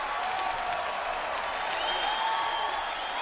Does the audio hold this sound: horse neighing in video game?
no